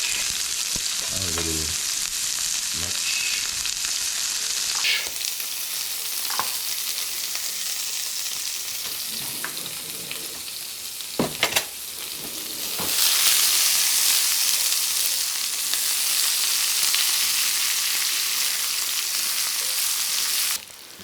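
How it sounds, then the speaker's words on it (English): Onions cook in olive oil in a pan over reduced heat, a continuous close sizzle with a few sharp utensil knocks and stirring clatters, then a brighter, louder frying hiss in the second half; no talking. "put more olive oil, reduce the fire a bit, and we are going to cook the onions"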